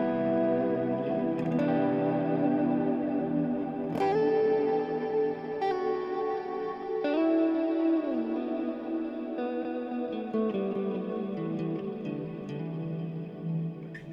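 Guitar through an Axe-Fx III plex delay set to eight delays plays notes and chords that smear into a dense, shimmering wash of overlapping repeats, with fresh plucked attacks every second or two and no talking.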